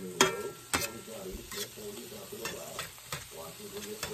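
Potatoes and chicken sizzle in butter in a cast iron pan, a steady frying hiss broken by sharp scraping stirs of a utensil against the pan, close and moderately loud.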